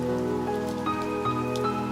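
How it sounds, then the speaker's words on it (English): Rain effect in a Gacha animated video, a continuous patter of drops on a surface running throughout, steady and fairly loud, with a faint tonal background and no speech. "I haven't seen too many videos with rain in them, especially not this old."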